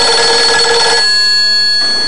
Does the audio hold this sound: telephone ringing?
yes